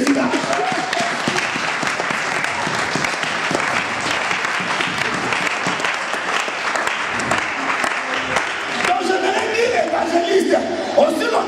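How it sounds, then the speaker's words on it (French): Sustained applause and cheering from a church congregation praising Jesus, many hands clapping steadily with voices rising through the crowd, loud and unbroken, with a voice emerging over it near the end. "Est-ce qu'on peut acclamer ce Jésus-là?"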